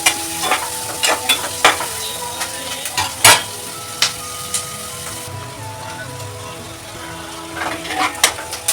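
Ingredients frying in an oiled pan until turning brown for a citron lemon rice, with a steady close sizzle broken by repeated scraping stirs and clinks of a spatula, no voices.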